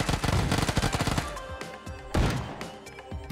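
Rapid gunfire in a shooting video game, first a fast burst of shots, then a few sharper single cracks with short pauses between them, loud and close.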